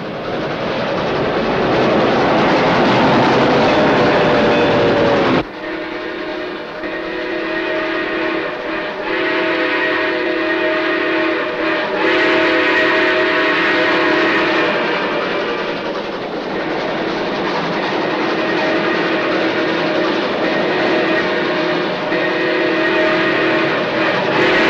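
Steam-era train running with a loud, sustained whistle blast and steady rail clatter, the whistle tones holding across most of the passage in an old slapstick comedy scene.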